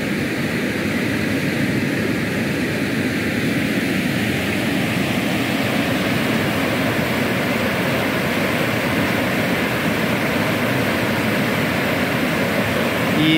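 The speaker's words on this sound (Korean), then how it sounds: "이 물소리를 얼마나 듣고 싶었는지, 그러나 비가 와야지 이런 물소리도 들을 수 있습니다" A steady, loud rush of muddy stream water swollen after rain, constant and unbroken throughout, with no voices.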